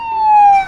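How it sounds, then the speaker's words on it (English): A toy police car siren gives one brief, loud electronic wail, a steady tone that sags slightly in pitch before cutting off. "All police cars have sirens, and it kind of sounds like this."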